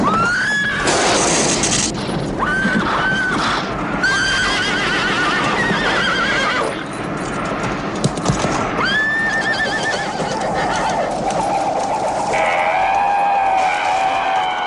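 A horse neighs and whinnies repeatedly at close range in a dark nighttime TV show scene, with clip-clopping hooves and loud, continuous commotion throughout.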